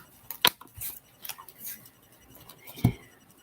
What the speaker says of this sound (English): as I'm shuffling through that, there goes the Sun card at the top right now